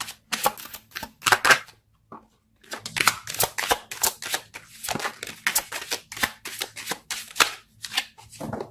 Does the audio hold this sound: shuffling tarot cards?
yes